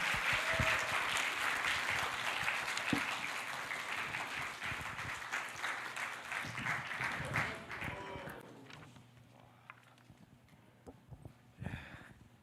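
A congregation at an evening church retreat service applauds steadily for several seconds, then the clapping thins and fades to scattered claps and quiet room noise.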